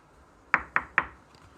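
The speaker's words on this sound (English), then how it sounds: "knocked upon the door" Three sharp knocks land on a cottage's wooden door in quick, even succession, close and crisp, followed by quiet.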